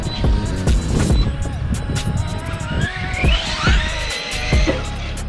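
An Arrma Granite V3 Chevy RC monster truck on slick tires drives around a skate park in Chalons-en-Champagne. Its electric motor whines and rises in pitch between sharp clattering knocks and bumps, loud and close.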